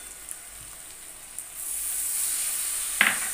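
Garlic and green chili paste frying with taro stolons in a pan over a low flame, a soft steady sizzle that swells after the paste goes in, with a brief clatter near the end.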